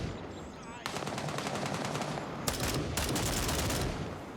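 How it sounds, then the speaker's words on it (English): Automatic gunfire in the shooter game Gray Zone Warfare, loud close bursts of rapid rifle shots, one long volley and then two shorter ones after a brief pause, with no talk. "he's going to start shooting"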